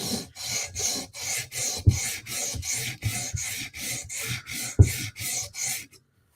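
A Tanto M4 PM2 knife scrapes over a sharpening stone in a quick run of about fourteen even, rhythmic strokes, close and fairly loud, with a couple of sharper knocks mixed in before it stops.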